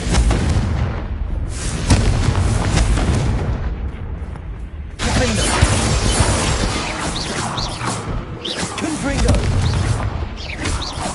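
A Confringo blasting spell detonating in Hogwarts Legacy, loud crashing booms within a dense, continuous wall of battle noise and rumble that briefly dips midway before surging back.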